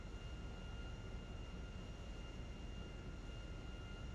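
An airplane comes in to land on a runway in GTA 5, heard as a steady, even engine drone with a faint constant whine and no change in loudness.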